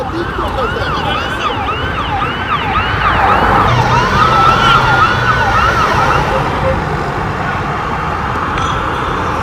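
Emergency vehicle sirens wail continuously at a fire scene in central Israel, several overlapping rising and falling tones, loud over steady road traffic rumble, with no talking.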